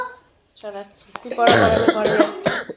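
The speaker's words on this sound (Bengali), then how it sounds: "এত কাশি হয়েছে মোটে কমছে না" A person with a month-long illness coughs in a harsh cluster of loud, close bursts right after a few spoken words.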